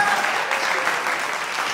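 An audience applauds at a youth jazz concert, producing steady, dense clapping throughout the short stretch, loud and continuous with no pause.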